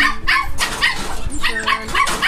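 Several dogs, named pets in a home kept together at feeding time, bark in quick overlapping bursts, loud and close, with faint yips mixed in.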